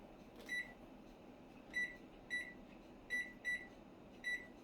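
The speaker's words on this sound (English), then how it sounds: "I gotta set a timer" Key presses on a kitchen timer in a home kitchen, short, faint electronic bleeps in an irregular run of six over a low room hum, with no talking.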